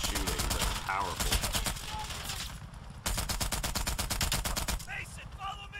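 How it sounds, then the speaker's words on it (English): Repeated bursts of M60 machine gun fire in the Call of Duty: Black Ops Cold War campaign, loud and rhythmic rapid shots in two long volleys separated by a brief gap, with game voices mixed in. "The M60 is a nice gun. It takes forever to reload, and it's kind of slow in shooting, but powerful."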